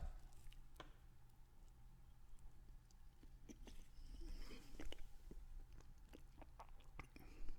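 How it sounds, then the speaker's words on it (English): Close, faint wet licking and squishing on the spicy filling of an El Monterey ghost pepper chimichanga, soft smacking mouth sounds repeating irregularly with brief sharper ticks against a quiet background. "So I'm gonna lick the filling in the inside"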